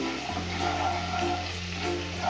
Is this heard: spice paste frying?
yes